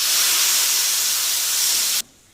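Steam hisses loudly and steadily from an opened pressure cooker, then stops abruptly near the end.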